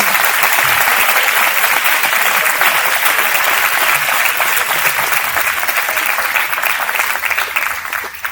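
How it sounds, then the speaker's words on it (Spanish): Loud, dense applause from an audience at a TED STEAM training session greets Natanael, sustained and close, easing slightly toward the end. "les pido un aplauso para Natanael"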